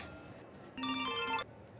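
A phone ringtone plays a short, bright run of electronic tones in one burst of under a second, clear against a low room hum, with no voices.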